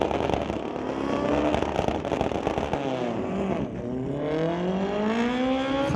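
Kawasaki ZX-10R sport bikes drag racing at a street legal event, loud high-revving engines screaming continuously, pitch climbing through rapid gear changes with crackling bursts, close and dominating throughout.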